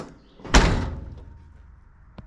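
A single solid door slam on an old pickup truck body, a dented, rusty door shut once with a heavy thunk, then a fading rattle and a faint click near the end; no talking.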